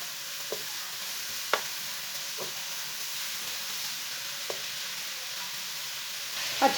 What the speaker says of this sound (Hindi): अब इसे ऐसे ही चम्मच चलाते हुए 4-5 मिनट तक भून लेंगे।